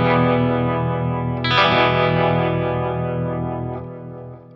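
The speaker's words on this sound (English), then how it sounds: "Here's a little bit of tremolo from the Flint." Electric guitar played through a Suhr Bella amp with tremolo from a Flint pedal, one sustained ringing chord, then a second strum that slowly decays over several seconds, fairly loud and with no voices.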